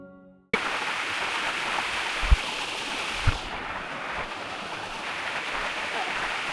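Waterfall on Dartmoor heard from up a hill, a continuous broad rushing wash of water after a brief quiet start, with a couple of soft thumps.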